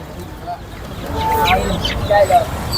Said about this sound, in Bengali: এই ফাউমি সবগুলোই ফাউমি জাতের মুরগি